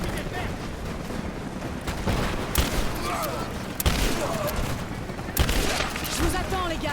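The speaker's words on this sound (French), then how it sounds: "On va y aller au fusil à pompe." Shotgun gunfire in the video game Rise of the Tomb Raider, with several loud sharp blasts spread across a busy battle din of other shots and effects, while a voice talks over it.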